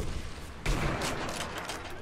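Gunfire in the Sniper Elite V2 video game during a co-op mission at the Kaiser-Friedrich Museum: a single loud shot bursts in suddenly and leaves a noisy, rumbling wash behind it.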